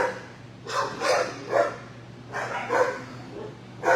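A young black pit bull puppy barks in a series of short bursts, about eight sharp yaps grouped in twos and threes, fairly close and loud, in a kennel setting.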